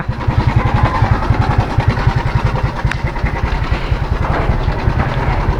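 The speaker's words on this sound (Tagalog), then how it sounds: "Sama ng tunog ng motor ko" A motorcycle engine that sounds faulty runs close by with a rough, pulsing putter, its beat steady and slightly uneven throughout.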